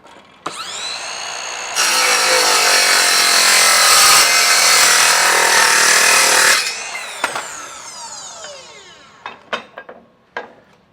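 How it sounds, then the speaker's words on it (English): Ryobi 18V cordless miter saw fitted with a Diablo steel-cutting blade slicing through steel tubing: a loud sustained screeching cut of about five seconds, then the blade spins down, followed by a few sharp clinks. "now you can actually cut steel tubing as well"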